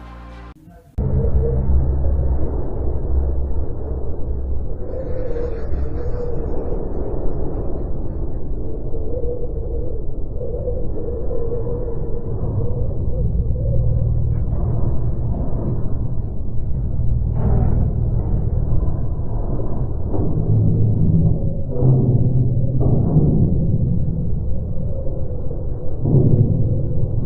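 Wind on Mars picked up by a rover's microphone: a steady, loud low rumble and buffeting roar that runs nearly unbroken, with a few heavier gusts and thumps toward the end and no voices.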